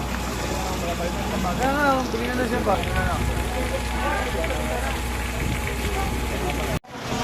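A large fire in Santo Rosario, Mandaluyong, still burning after starting that morning, gives a steady, loud crackling roar like heavy rain, with people talking over it throughout.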